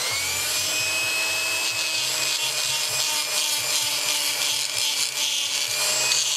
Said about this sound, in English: What I've got is a little grinding stone on my Dremel this time.